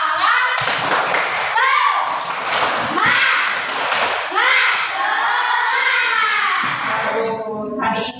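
A class of children performs a rhythmic spirit clap, sharp patterned claps mixed with loud chanting voices, close and energetic throughout.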